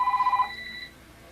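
A telephone rings in a workshop, a quick warbling electronic trill lasting under half a second before a fading tail, close and clear with nothing else over it.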